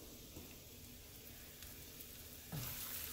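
A faint, steady sizzle of tortillas frying in hot oil, with a brief louder crackle near the end.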